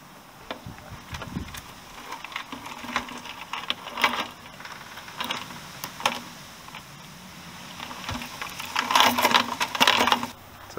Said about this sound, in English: It's time to extract the chain from this solution and let it dry for a few minutes